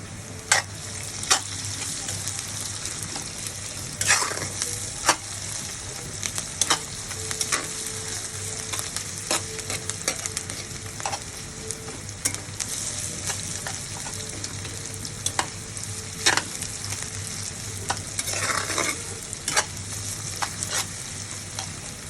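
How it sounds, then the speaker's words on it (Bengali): Onions with salt frying in a pan while a spatula stirs them. A continuous close sizzle runs throughout, broken by repeated sharp scraping and clinking strokes at an irregular rhythm, with no talk. "পেঁয়াজটা একটু ভাজা ভাজা হয়ে গেছে।"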